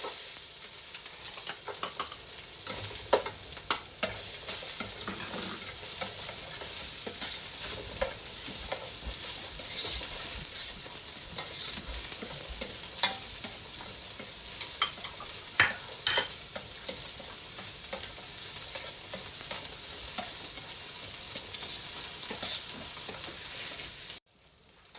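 Onion sautéing in a hot pan for arroz caldo, a steady close sizzle and crackle with occasional stirring scrapes, running continuously before cutting off abruptly at the end.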